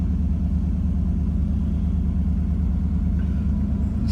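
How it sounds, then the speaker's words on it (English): A 1972 Triumph Stag's 3.0 V8 idles evenly and close, a steady low rumble with a smooth, unbroken rhythm throughout. "Starts nicely and settles down to a nice idle."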